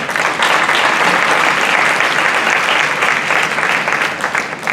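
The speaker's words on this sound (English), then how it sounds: "who I think deserve another round of applause." An audience at a roundtable discussion applauds the panelists, a dense, sustained clapping that fills the room for several seconds without a break.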